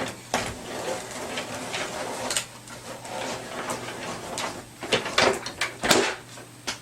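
An AccuQuilt GO! fabric cutter has a die with a cutting mat pushed through it, giving soft mechanical rolling and scraping with a cluster of sharper clicks and knocks toward the end, fairly quiet overall.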